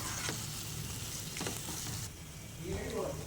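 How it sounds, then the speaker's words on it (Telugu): Brinjal chutney is stirred into a hot tempering with curry leaves in a pan, giving a steady sizzle and frying hiss with a few scraping stirs of the spoon, close and continuous, with no voices. "వంకాయ పచ్చడి యాడ్ చేసిన తర్వాత ఈ పోపులో కలిసే విధంగా కలుపుకోవాలి."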